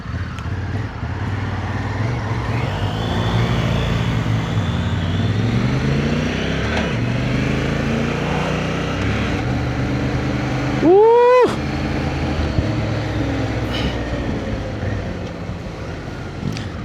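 Honda Africa Twin motorcycle cruising on an open road on a hot day, a steady engine drone blended with heavy wind rush over the microphone, with a brief rising whine partway through.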